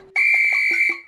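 A loud, shrill whistle blown at a TVK political rally in Salem, one sustained piercing blast held for nearly a second, with warbling pitch changes and a short extra chirp at the end.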